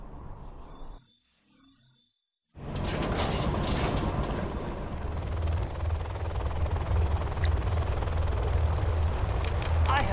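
Jet engine roar from a MiG fighter in C&C Generals Zero Hour. A short muffled stretch gives way to a loud, steady, broadband whoosh that keeps going, with faint game effects and voice-like sounds underneath.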